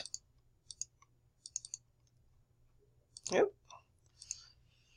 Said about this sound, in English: now I'm going to double click back in it